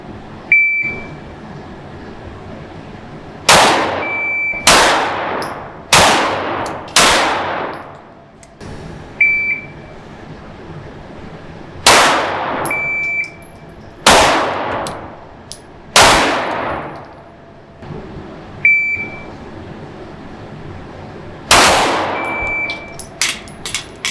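Rifle shots ringing off steel targets during a timed qualification drill, pairs of sharp clangs with a bright metallic ring repeated in three strings, each shot decaying quickly, with faint beeps between strings.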